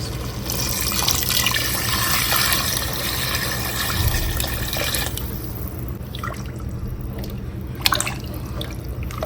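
Water is poured into chicken cooking for biryani, a close, steady liquid splashing and trickling that thins out into scattered drips toward the end.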